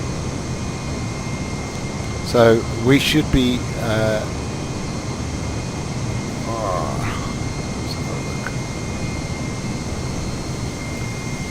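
Steady broadband engine drone of an aircraft in Microsoft Flight Simulator 2020 on a Birmingham to Exeter flight, continuous and fairly loud throughout, with someone briefly talking over it early on.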